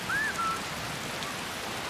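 Steady rain in the video game Skyrim, a constant soft hiss of falling drops on surfaces, with a brief faint whistle-like tone at the start.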